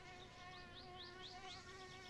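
Mosquitoes buzz in a steady, high-pitched whine that drones on without a break, close and continuous, in the video game My Summer Car.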